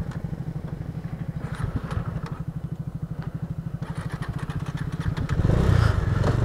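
A motorcycle engine idles on a cold mountain road in Spiti, a steady rapid thumping putter close to the microphone, with faint clattering in the background and the rumble briefly swelling near the end.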